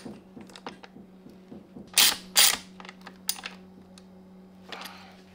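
Ratchet tightening bolts on the air box of a Yamaha R1 motorcycle: quick light clicking runs close by, broken by a few louder metallic clanks, over a steady low hum.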